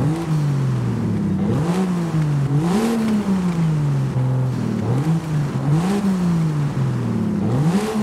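A stock Land Rover Defender exhaust in Forza Horizon 5 revs repeatedly, engine pitch climbing and dropping in steady waves, loud and close with no talking.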